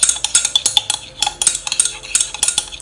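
Utensil stirring a homemade hibiscus shampoo mixture with coco betaine surfactant in a container, quick continuous scraping and clinking strokes in a busy, close rhythm.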